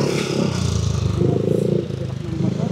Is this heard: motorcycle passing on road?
yes